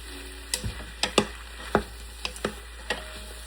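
Browned beef for a stew being stirred in a pot, a series of sharp scraping knocks of the utensil against the pot at irregular intervals over a faint low sizzle.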